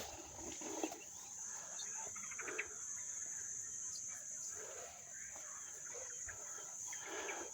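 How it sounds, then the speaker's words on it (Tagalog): Birds calling and chirping faintly in the distance over a steady outdoor hum, scattered calls throughout. "mga ibon oh pakinggan yung mga ibon"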